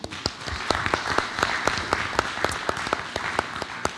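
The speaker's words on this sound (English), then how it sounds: "Let's give Angela a round of applause." Audience applause at a school board of education meeting: steady, even clapping from a room of people, moderately distant, with a few sharper individual claps standing out.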